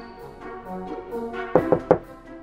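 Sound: knocking on a house door in a toy cartoon

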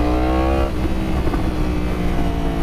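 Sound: 2016 Yamaha R1 motorcycle revving, exhaust sound

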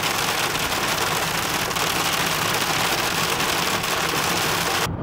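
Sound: heavy rain downpour while driving on the road

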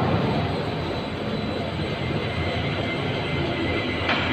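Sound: candlenut sieving machine running

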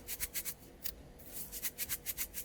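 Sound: water filter capsule being shaken

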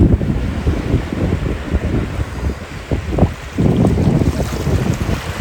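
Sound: big sea waves crashing, Arabian Sea

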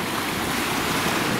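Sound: sea waves at a sunny harbour in Mallorca

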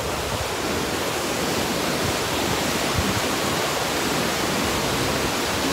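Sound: water rushing at a dam

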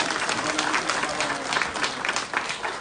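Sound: audience applause for Traian Boca

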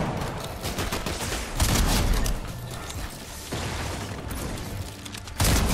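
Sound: gunfire in the video game Fortnite

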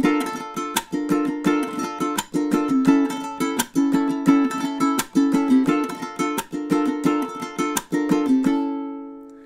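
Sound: flamenco-inspired rumba strum pattern on ukulele

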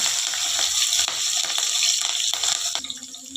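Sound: green chillies frying in a pan

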